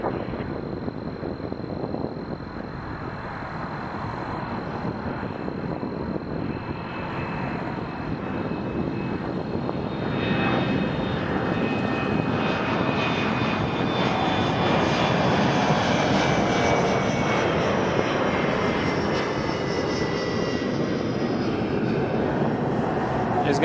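A Jazz airliner on its takeoff roll at Toronto Pearson Airport, a steady roaring engine that swells and grows louder over more than twenty seconds, heard from a distance outdoors with faint wind noise.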